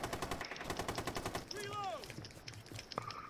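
Rapid automatic gunfire from a video game, a fast burst of repeated shots in the first half, then scattered game sound effects with a voice heard underneath.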